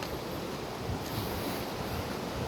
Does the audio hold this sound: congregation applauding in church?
no